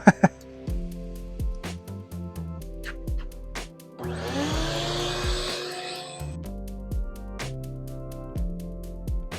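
A vacuum cleaner roars for a couple of seconds in the middle while cleaning a Toyota Tacoma interior, a steady broadband whoosh, bracketed by repeated sharp clicks and knocks before and after.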